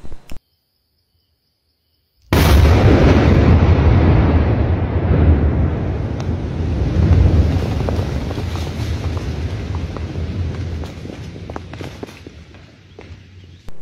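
Large bomb exploding in Laos: a sudden massive blast after near silence, followed by a long, loud rumbling roar and debris noise that slowly fades over several seconds.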